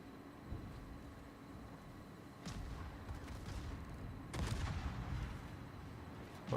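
Naval guns in the World of Warships video game fire armor-piercing shells: a couple of deep, distant-sounding booms rise out of a low rumbling battle bed, fairly quiet overall, with no talking.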